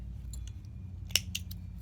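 Scissors snip off crochet yarn, a few quiet close clicks ending in one sharp cut near the middle, over a low background hum.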